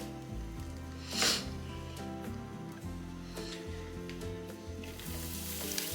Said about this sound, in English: We're gonna add our coconut, shredded coconut in now.